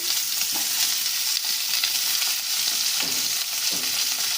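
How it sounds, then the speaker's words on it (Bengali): Beans and onions fry in a pan with a loud, dense, continuous sizzle, close by, broken by a few soft stirring scrapes and no voices. "এইবার সিমগুলো এতে দিয়ে দিলাম, পেঁয়াজ দিয়ে দিলাম"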